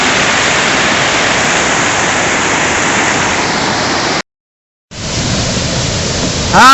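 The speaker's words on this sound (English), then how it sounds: "The waterfalls is not as big as I remember it. This is the big one" A loud, steady rush of falling water fills the air, broken by a brief gap before the roar resumes.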